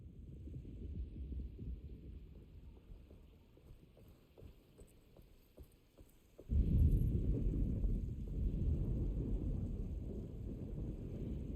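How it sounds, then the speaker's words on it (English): Thunderstorm ambience in the horror video game Alone in the Dark: a low rumbling bed with faint rhythmic knocks, then a sudden loud thunderclap that rolls on as a heavy, sustained rumble, with no talking. "Just keeping an eye out for the storm. Radio says it could be a wild one."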